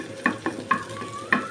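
Chopped onion and garlic frying in oil until brown, alongside a halved dried chili, a soft continuous sizzle punctuated by four sharp clinks of a utensil against the pan, close and fairly quiet, with no talking.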